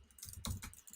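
Code is typed on a computer keyboard in a quick cluster of several crisp keystrokes, close and fairly quiet, with no voice over them.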